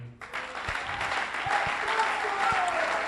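A church congregation bursts into steady applause for Pastor Israël, the dense clapping starting suddenly and holding evenly to the end, with a few low thumps beneath it.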